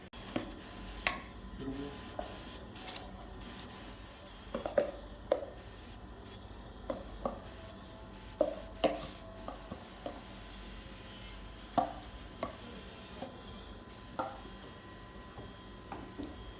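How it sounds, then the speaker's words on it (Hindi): Soft, irregular knife taps on a cutting board while chopping tomatoes, scattered through a quiet room tone with no talking. "इसको अच्छी तरीके से चॉप करेंगे"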